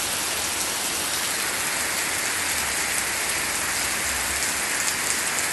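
Heavy rain pours down steadily, a dense, loud, unbroken hiss with a low rumble underneath, alone and without a voice.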